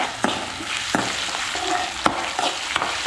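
Garlic and ginger fry in a pan for watermelon pickle, with a busy sizzle under repeated scraping strokes of a stirring spoon at an uneven rhythm, close and fairly loud, with no voices.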